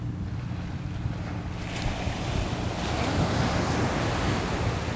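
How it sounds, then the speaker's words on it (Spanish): Ocean waves wash steadily onto the beach beside the pier at El Muelle de Arecibo, a continuous roar of surf mixed with wind buffeting the microphone, with no voices. "Abunda mucho aquí en la playa El Muelle de Arecibo."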